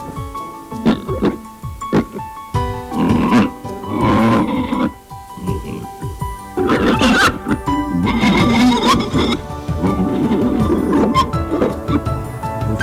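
Pigs grunting inside a hog farm building, a dense run of low, rough grunts and snorts layered over one another, close by and fairly loud throughout with a few brief lulls.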